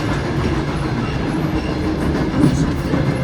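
A passenger train rolls along rails through a Lithuanian forest, giving a steady, loud rumble and a faint rhythmic clatter that lasts the whole clip.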